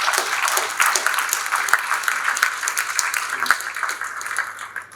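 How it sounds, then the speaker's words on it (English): An audience at an annual oration gives a round of applause, dense continuous clapping from many people in a hall, steady and fairly loud for the whole stretch. "A round of applause for all of those people."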